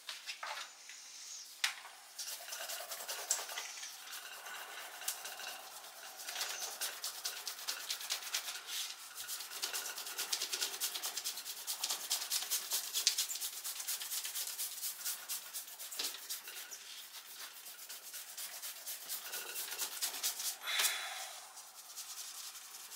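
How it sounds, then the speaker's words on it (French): An eraser rubs over a pencil comic illustration on paper in quick, continuous close strokes with a soft scratchy texture and small pauses. "Même chose avec ce dessin-là que je vais gommer."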